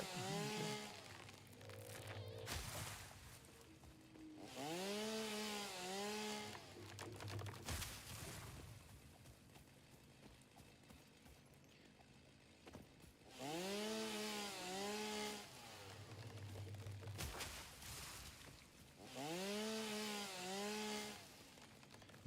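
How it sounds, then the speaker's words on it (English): Chainsaws carried by a big scary man in the video game Satisfactory, revving in repeated loud bursts that rise and fall in pitch, two clusters separated by a quieter stretch, close and harsh. "Big scary man with chainsaws right behind you."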